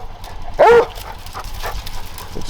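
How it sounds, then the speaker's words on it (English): A coon hound bays at a treed raccoon in thick salt cedar brush in southern New Mexico, giving one loud, close bark followed by fainter yips and whimpers. "Barking like he's treed,"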